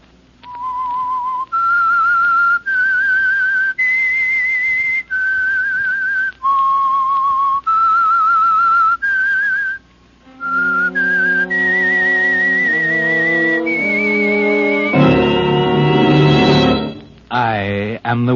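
A lone whistler plays the slow, eerie signal tune of the radio show The Whistler, sustained notes clear and close, then an orchestra swells in with rising chords near the end.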